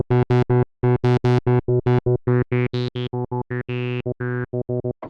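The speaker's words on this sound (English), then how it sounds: "Now you can hear that as I change the velocity," Repeated short synth notes from a Studio One Mai Tai with high filter resonance, their brightness shifting note by note with playing velocity, loud and close in a choppy rhythm with no voices.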